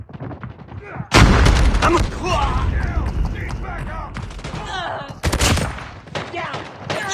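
Gunfire in a shooter video game, bursts of rapid automatic fire and sharp shots in quick succession, loud and close, mixed with shouted voices of players talking.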